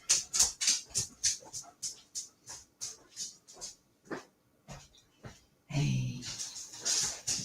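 A pet dog whimpers to be let out, giving a rhythmic run of short, high whines and huffs close by, followed by a louder, fuller burst. A voice speaks one brief word.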